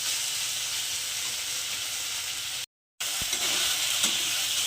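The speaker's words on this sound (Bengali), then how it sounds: "খুব বেশি ভাজবো না এটা একটু হালকা আমি ভেজে নেবো" Paneer pieces fry lightly in a pan over medium heat, giving a steady, close sizzle with stirring scrapes, broken by a brief gap before the frying resumes.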